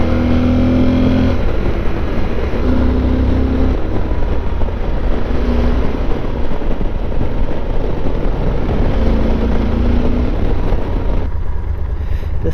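A Yamaha Super Tenere motorcycle rides on a gravel backroad and kicks up dirt. Loud, steady engine drone mixes with constant wind and road rumble, and the occasional tonal rise comes as the engine revs.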